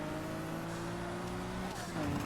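Race cars revving in Need for Speed Heat, including a Subaru, a steady loud engine drone with shifting pitch tones, ending in a louder rush as the race starts, with a voice talking over it.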